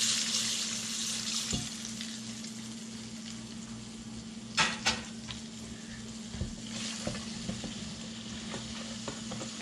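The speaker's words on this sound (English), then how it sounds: "just a little bit of this peanut oil that we cooked in. Going to give everything a stir." Food frying in peanut oil in a pan, a steady close sizzle with occasional scraping and clinking of a utensil as it is stirred, no talking.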